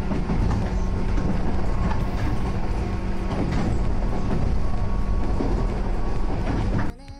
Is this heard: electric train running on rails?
yes